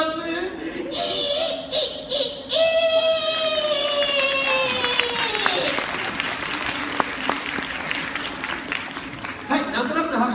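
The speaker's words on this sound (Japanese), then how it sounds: "なんとなくの拍手ありがとうございます" An audience at a Universal Studios Japan show gives a loose round of applause, the clapping building in the second half after a voice and some laughter carry over the start.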